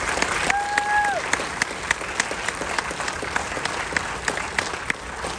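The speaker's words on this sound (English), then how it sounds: "Let's give a round of applause for the boys track team." An audience at a school athletic awards ceremony applauds for the boys track team, sustained clapping in a large room with a few sharp individual claps standing out and a brief whistle-like tone near the start.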